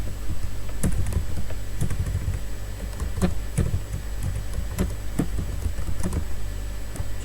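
Code typed on a computer keyboard while building a table tennis game in HTML, CSS and JavaScript: irregular bursts of clicking keystrokes, close and fairly steady, over a constant low hum.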